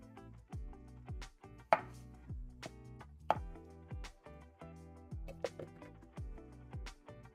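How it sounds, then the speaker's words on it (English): A knife chops potatoes into cubes on a cutting board, a series of close, crisp thuds in an uneven rhythm, some louder strikes standing out, with faint ringing from the board and no talking. "So just like cube them and make them increase the surface area of the potato so that they boil faster."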